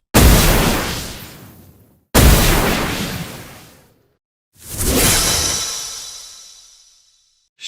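Fireball attacks from the Hero Wizard in the mobile game Clash Royale: three loud, separate whooshing fiery bursts, each flaring up sharply and trailing off over about two seconds, the last one brighter and ringing.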